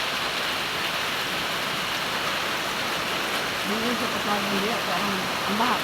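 Floodwater rushing steadily after heavy rain, a constant broad hiss of flowing water close by, with a voice talking over it near the end.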